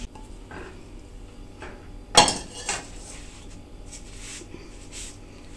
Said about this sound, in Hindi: क्योंकि ये तो बहुत गर्म है कढ़ाई, हम किसी खुले बर्तन में इसको मुंतकिल करते हैं।